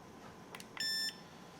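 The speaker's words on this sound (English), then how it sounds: "Single beep is recording." A Dominator V2 FPV goggle DVR gives one short, thin electronic beep, heard alone against faint background hiss.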